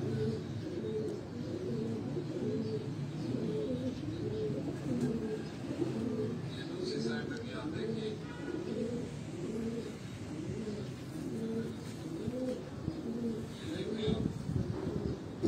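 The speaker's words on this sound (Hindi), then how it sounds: "बड़ा ही ये चीने कबूतर दोस्तों" Cheena pigeons coo in a steady, overlapping chorus of soft, throaty calls that run throughout, close and continuous against a faint background murmur.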